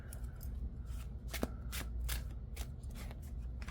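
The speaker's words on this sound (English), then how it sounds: "So we'll start by taking 5 cards from here." A tarot deck gets handled, cards sliding and flicking softly in quick, close, quiet bursts.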